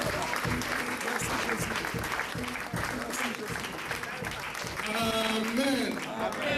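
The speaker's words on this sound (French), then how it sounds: "Acclamons très fort, très fort, très fort, très fort." A church congregation applauds loudly and steadily in dense, continuous clapping that runs throughout, with voices calling out and speaking over it.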